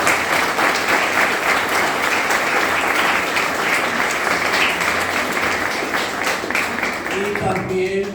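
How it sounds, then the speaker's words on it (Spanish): An audience at a Guatemalan anthropology event applauds in a loud, sustained wash of clapping that fades near the end. "Un gran aplauso para ella, por favor."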